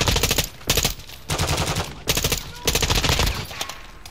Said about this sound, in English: I got a long shot with a shotgun